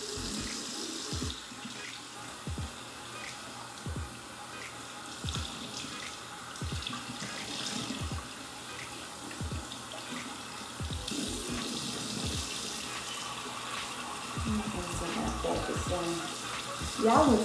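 Warm water running from a bathroom tap onto a towel to soak it: a steady, moderate splash of flowing water with a few soft knocks and handling sounds, continuing throughout.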